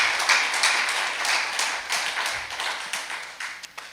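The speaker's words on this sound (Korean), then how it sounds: "감사와 영광과 존귀의 박수를 올려주시면" Audience applause at a Korean church lecture gathering, a steady wash of many hands clapping at moderate distance, thinning toward the end with a few last claps.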